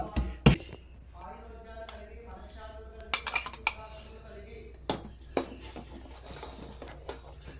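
Masala tea spices being pounded and crushed, with sharp metallic knocks and clinks arriving in irregular clusters over a low background hum, close by.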